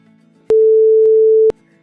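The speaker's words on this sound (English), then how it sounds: "This is the sound of 440 Hz." A pure 440 Hz sine wave test tone plays alone for about one second, steady and loud, starting and stopping abruptly.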